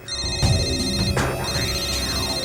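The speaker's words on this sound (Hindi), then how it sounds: "अंतरा का फोन है।" A phone ringtone plays loudly and continuously, a bright repeating melodic tone with a few accented beats, close by and without speech.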